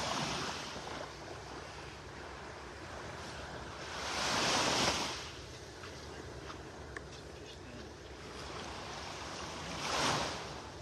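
Surf rolling onto a beach in North Naples, Florida, on a morning walk, a steady wash of breaking waves with two louder swells rising and fading, blended with wind rushing across the microphone.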